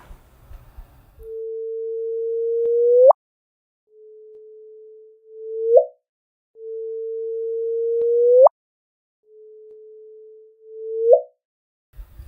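Four synthetic gliding tones come from gravitational wave signals shifted up by 400 Hz. Each holds a steady pitch for about two seconds, then sweeps sharply upward at the end, separated by short silences.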